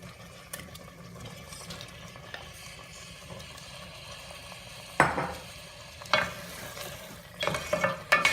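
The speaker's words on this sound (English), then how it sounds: "we just have to mix our paneer, capsicum and onion in our gravy" Paneer, capsicum and onion are stirred into gravy in a kadhai, with a low background sizzle and sharper scraping strokes of the spoon against the pan toward the end.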